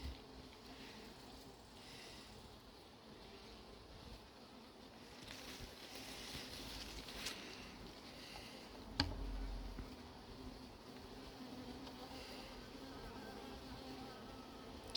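A hornet drones around a bee capture box in an apiary, a steady soft insect buzz mixed with outdoor background hiss, with one sharp click partway through.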